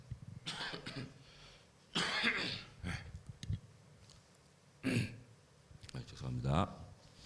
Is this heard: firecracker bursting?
no